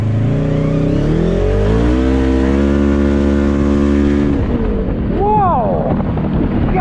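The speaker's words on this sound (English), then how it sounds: "The clutching in this Polaris is so smooth." A Polaris RS1 side-by-side revs and accelerates up through smooth clutch engagement, the loud engine note climbing steadily before easing off, with wind buffeting the microphone throughout and no voices.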